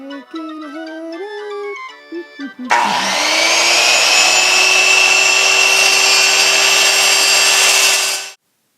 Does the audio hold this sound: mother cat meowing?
no